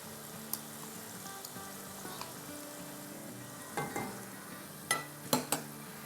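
Yogurt and chicken fry in a pan for a restaurant-style chicken handi, giving a soft, steady sizzle, with scattered spoon scrapes and a few sharper clacks of stirring toward the end.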